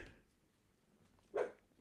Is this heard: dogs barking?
yes